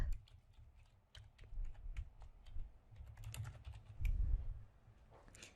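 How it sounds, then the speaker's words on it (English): Quick, uneven tapping of keys on a computer keyboard, close and fairly quiet, in short bursts with brief pauses. "I can start typing a message to her here."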